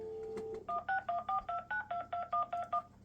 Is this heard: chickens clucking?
no